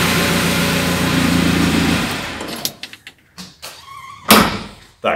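A carbureted car engine running on LPG drones steadily and is then switched off, with the hum cutting out abruptly and being followed by scattered clicks, knocks and a sharp thump in the quiet.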